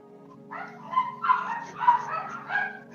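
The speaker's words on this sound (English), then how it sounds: "Stupid dogs." Dogs bark and yip in a short run of calls at moderate distance, with a steady low hum underneath and no speech.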